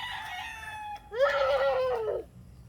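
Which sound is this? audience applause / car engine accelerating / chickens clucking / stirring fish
chickens clucking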